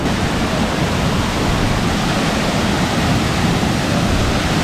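Karakkund waterfall in Kerala, with water rushing down in a steady, loud, unbroken roar that fills the whole clip and has no voices over it.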